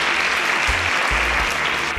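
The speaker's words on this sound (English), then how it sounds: "Please, can we give her an nkwobious round of applause?" Loud applause from a studio audience on a competition show, continuous dense clapping close by, with a few low thumps underneath.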